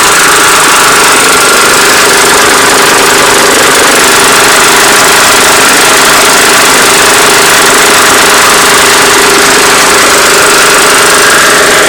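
An old oil-burning lawnmower engine runs loud and steady close by, a continuous droning rumble with a buzzing, rattling vibration throughout.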